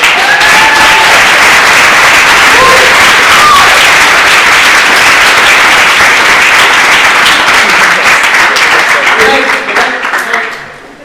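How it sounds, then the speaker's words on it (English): Sustained loud applause from a large audience at a music and web keynote panel, steady and dense for about ten seconds before tapering off at the end, with faint voices mixed in. "if you could all give a big round of applause"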